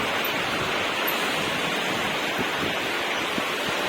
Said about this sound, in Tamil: மழை பெய்யுதுங்க.